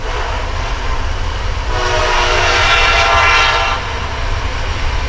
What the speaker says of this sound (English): Oh yes, our beloved trains.